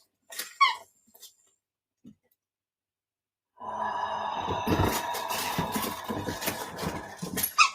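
A dog in a home whimpers and whines during a chair yoga session, a few high whines at first, then after a pause a long, loud, steady whining moan, close by.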